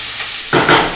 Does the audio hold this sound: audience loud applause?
no